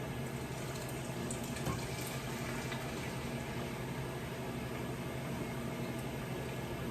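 Water and brewed tea pour steadily into a jar for homemade kombucha, a continuous soft, even splashing stream with no pauses, fairly quiet and close, and no talking.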